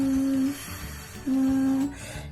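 A voice performs a fricative exercise as a vocal warm-up, switching between a steady voiced buzz and a breathy unvoiced hiss: voiced for about half a second, hissing, voiced again, then hissing again, close and alone.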